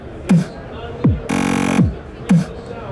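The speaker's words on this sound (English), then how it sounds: "But because it's granular, I can cut, you know, way more slices, like maybe 20 slices, and that sounds like this." A snare cut granularly into about 20 slices in iZotope Break Tweaker, heard as a few sharp percussive hits with falling pitch sweeps and a short buzzing, stuttered burst in the middle, loud and clear.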